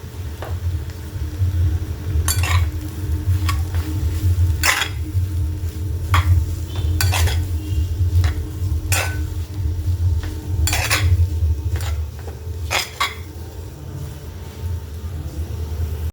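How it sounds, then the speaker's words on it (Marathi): Potato and pea filling for aloo rolls stirred with salt in a pan, with a spoon repeatedly clinking and scraping against the metal in irregular bursts over a steady low kitchen rumble. "यात चवीप्रमाणे मीठ टाकून घेणार आहे आणि हे छान मिक्स करून घ्यायचं आहे"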